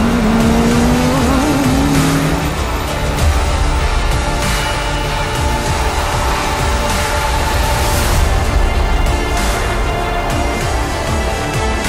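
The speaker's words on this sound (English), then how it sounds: "Stani goes to the inside of Marco Giocchi at turn one" Race cars competing on a track, with engines roaring loudly and continuously, several passing close and blending into a dense, steady wall of motor noise with a brief whining tone at the start.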